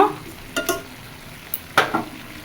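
Curry sautés in a pan under a soft sizzle while a spatula stirs it in a few quick scraping strokes, close by and without speech.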